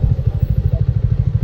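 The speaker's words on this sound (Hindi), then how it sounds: "बाइक मुझे यहीं कहीं पे पार्क करना पड़ेगा।" A motorcycle engine idles close by while the rider parks near a temple by a power plant in Odisha, a low, steady, rapid putter with no talk.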